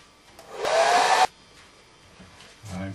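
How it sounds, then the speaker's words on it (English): A hair dryer blows on gouache paint for about half a second of steady loud whooshing, then cuts off abruptly, leaving near quiet with a faint low hum at the end. "I shall now dry off the gouache white bits with this hair dryer"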